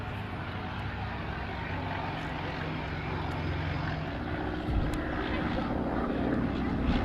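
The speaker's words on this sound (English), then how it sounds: "This particular Cub has a 65 horsepower Continental and cruises only 73 miles an hour." A Cub light aircraft with a 65 hp Continental engine flies at an evening air display, its propeller engine drone steady and moderately distant, rising slightly toward the end.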